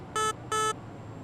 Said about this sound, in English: and even beep the horn